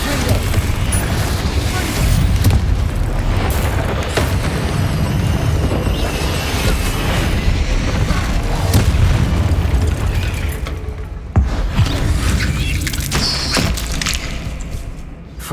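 In the Hogwarts Legacy video game, a Confringo fire spell sets off loud, continuous booming blasts and crashes in a dense battle, with shouted spell voices mixed in.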